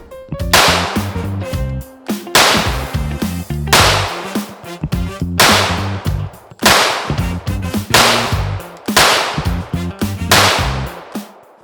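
Fifteen rounds fired from a Lone Wolf Arms Alphawolf pistol with an LR01C slide and adjustable trigger ring out as loud, sharp cracks, spaced about a second apart in a steady cadence, each with a brief echoing tail outdoors.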